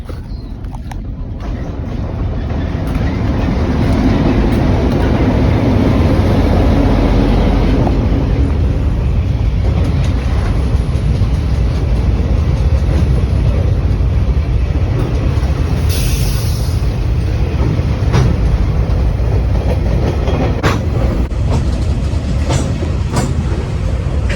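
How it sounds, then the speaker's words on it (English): A train rumbles past loudly and close, its heavy, steady roar and clacking wheels continuing without a break. "I think it's a train."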